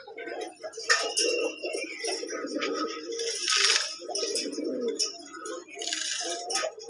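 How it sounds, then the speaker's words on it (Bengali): A pair of fancy pigeons at a pigeon farm coo repeatedly nearby, low throaty calls in overlapping phrases, with a few faint metallic clinks in the background. "নর মাদি দুইটাই আপনার ডাকাডাকি করে"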